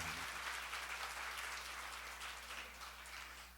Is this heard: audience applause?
yes